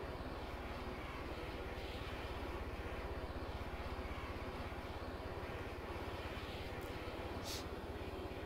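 A Dodo seaplane in a video game powers up for takeoff, its propeller engine droning loud and steady throughout, a continuous close rumble with no pauses.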